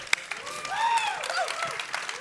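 Audience at an E3 Coliseum panel applauding and cheering, with a burst of clapping and a few whoops, a voice speaking over it.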